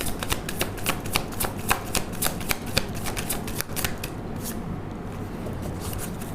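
Tarot cards being handled and shuffled up close, a steady run of crisp riffling snaps and slides that eases into softer handling near the end, with no voices.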